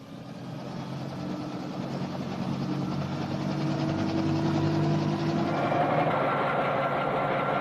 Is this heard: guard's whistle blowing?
no